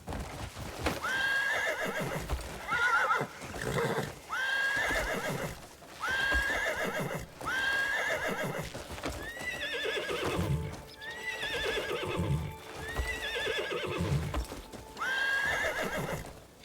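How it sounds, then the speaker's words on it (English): A horse in the Crimson Desert video game whinnies again and again over steady hoofbeat clip-clops, close and fairly loud, with no talk. "Look at this horse."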